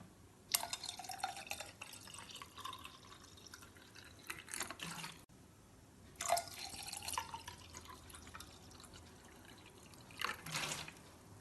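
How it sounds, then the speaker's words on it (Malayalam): Cold water from the fridge is poured into a glass with lemon juice and rose syrup for rose sharbat. Three separate splashing pours come close by with quiet gaps between them. "ഇനി ഇതിലേക്ക് ഫ്രിഡ്ജിൽ വെച്ച് തണുത്ത വെള്ളം ഒഴിക്കാം."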